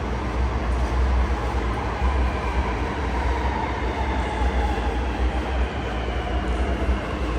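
A Sydney Metro train rumbles steadily in an underground station, a continuous low roar of wheels and motors with no talk over it.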